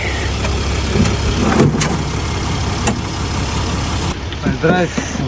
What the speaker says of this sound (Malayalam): ആരാന്തോ ഒരാൾ നമുക്ക് വേണ്ടി വണ്ടി നിർത്തി